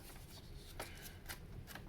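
Loose sheets of computer paper being handled, giving quiet, close papery rustles and a few crisp flicks over a soft, steady background.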